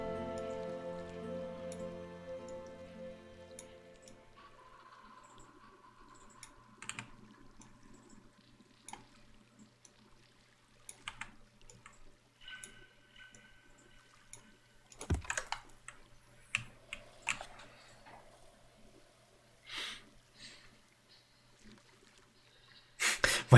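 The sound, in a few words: fast typing on a computer keyboard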